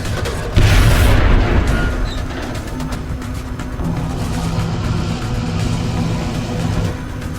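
A rocket detonates with a loud, close boom in the sci-fi strategy game XCOM: Enemy Within, its crack followed by a rumbling decay that settles into a low, steady hum.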